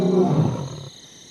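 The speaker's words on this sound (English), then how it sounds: "the lions square off with their roars." Wild lions roar in a face-off: a single loud, close, deep rumbling roar that trails off into a fading breathy tail.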